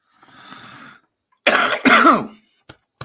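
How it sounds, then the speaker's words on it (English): A short breath, then two harsh, close coughs in quick succession, loud and raspy, followed by silence and a faint click. "Cough, cough, cough."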